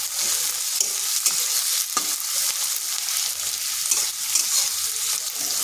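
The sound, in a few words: frying sliced onion in pan with cumin and cardamom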